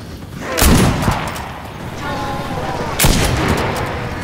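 Artillery fire in the video game Enlisted during a D-Day zombie mod battle, with two heavy, close booms about two seconds apart over a constant battle din.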